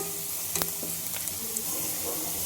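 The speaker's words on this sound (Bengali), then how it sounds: "পরিমাণ মতো তেল দিয়ে দিয়েছি এবার দিয়ে দেবো পেঁয়াজ কুচাম আর কিছু পরিমাণে দিয়ে দিচ্ছি জিরা" Chopped onion and cumin seeds hit hot oil with a loud, steady sizzle, and a few sharp clinks of a spatula against the pan sound early on.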